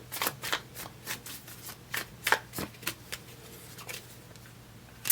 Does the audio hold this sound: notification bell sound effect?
no